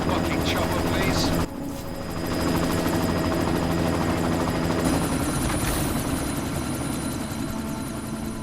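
A helicopter in the Deus Ex: Mankind Divided video game thrums continuously with rotor chop and engine whine, loud and close, briefly dipping before surging back amid game effects.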